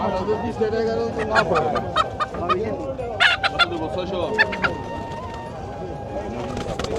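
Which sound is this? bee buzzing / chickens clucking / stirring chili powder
chickens clucking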